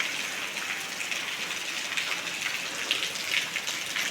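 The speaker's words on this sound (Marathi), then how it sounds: "पण आता हा पाऊस चालू झाला आहे." Heavy monsoon rain pours steadily in Rajapur in the Konkan region, a dense continuous hiss of falling water with scattered brighter drops and no voices.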